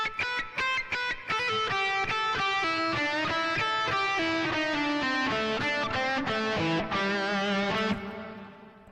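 Overdriven electric guitar plays a slow solo lick, sustained distorted notes following one another steadily before the last note fades out, with no voices over it.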